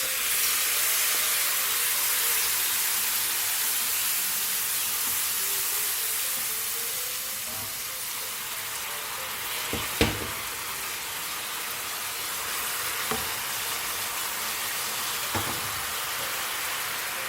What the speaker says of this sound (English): Masalas are frying.